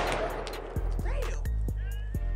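An AK-12 or bullpup 12 fired outdoors, several sharp loud shots spaced roughly half a second apart, each with a short ringing tail, while people talk around them.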